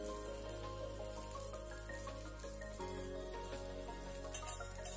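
Sabudana vada tikki fry in ghee on a pan over medium heat, giving a soft, steady crackling sizzle throughout, with faint background tones and a few louder pops near the end.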